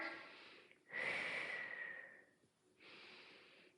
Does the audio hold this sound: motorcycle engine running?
no